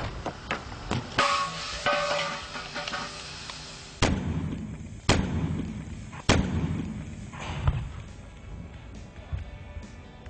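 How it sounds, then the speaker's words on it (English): An overheated truck tire and wheel bursting catastrophically, with several sharp, loud blasts in a row, each followed by a rumbling decay and crackling debris, near and without any talk. "the severe increase in temperature and pressure will cause the tire and wheel to catastrophically explode without warning."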